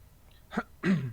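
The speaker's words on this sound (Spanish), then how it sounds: "Me disculpan que tengo una tos terrible." Two short, close coughs, the first lighter and the second heavier and rougher, with a brief quiet gap between them.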